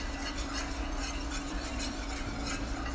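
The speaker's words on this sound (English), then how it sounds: "The trick is to continually stir. Use your whisk to scrape the bottom." A whisk stirs and scrapes roux across the bottom of a pot during Cajun cooking, a steady soft swishing scrape that repeats rhythmically at close range with no talk.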